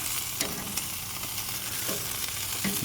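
Meat sizzling on a cheap FEASTO BBQ grill from Walmart on a back patio, a constant close crackling hiss punctuated by sharper pops and spits.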